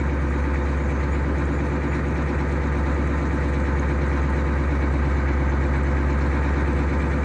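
A Ford 6.9 IDI diesel engine runs steadily with a loud, close, rough, continuous idle. It is unhappy and runs on red off-road farm fuel, and no one speaks.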